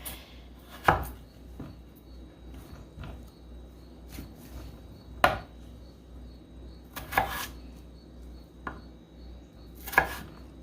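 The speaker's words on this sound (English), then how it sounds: "now that my potatoes are cleaned up and prepped, I'm just going to get them cut" Potatoes being cut on a board for homemade fries, with five or six distinct knife chops spaced a second or two apart, close and crisp, over a quiet steady background hum.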